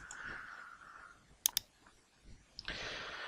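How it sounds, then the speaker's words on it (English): A computer mouse double-clicks sharply and close during Solidworks drawing work, a quick pair of crisp ticks standing out against quiet room noise, followed by a softer rustle. "Now click on OK."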